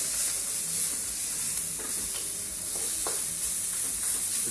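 Onion sizzling in a hot pan for a Thai-style kimchi and glass beef noodle stir-fry, a steady bright hiss with occasional soft stirring scrapes, close and continuous with no talking.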